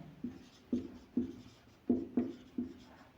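Handwriting on paper during a maths lesson, a quiet series of about six distinct scratchy pen strokes and taps in an irregular rhythm, close up with no talking.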